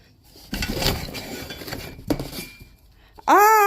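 A pot and a frying pan are handled and set down, giving clattering knocks and clinks of cookware at close range, followed by a sharp ringing metallic tone at the end.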